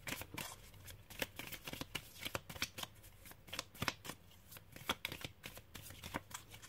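Tarot cards shuffled close up, a quick run of crisp riffling snaps and soft card slides in an uneven rhythm, quiet and without talk.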